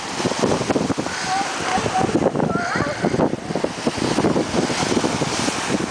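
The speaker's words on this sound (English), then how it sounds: "Those waves are coming in." Rough ocean waves roll in beside a boarded-up pier, a loud continuous wash of surf mixed with wind buffeting the microphone, with a person talking over it.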